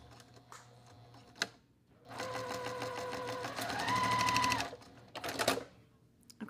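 Sewing machine stitching a quilt block, a few short back stitches then a steady mechanical whirring run of a couple of seconds, near and clear with quiet room sound around it.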